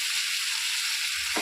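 Fish fries in a pan with a steady, close hiss of sizzling oil and no voices.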